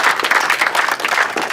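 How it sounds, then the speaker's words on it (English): Drama students receive a dense, loud burst of clapping from a room full of people. It runs steadily through the whole moment with no pauses. "I think you guys deserve yourselves applause."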